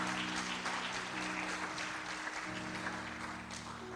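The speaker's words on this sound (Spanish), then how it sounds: "Dale un aplauso a Jesucristo." A church congregation at a sermon applauds steadily, the dense clapping filling the space throughout, with a low tonal hum underneath.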